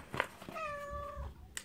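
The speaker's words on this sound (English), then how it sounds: "oh, my cat's over here knocking me around." A cat gives a single clear, drawn-out meow close by, preceded by a few soft bumps.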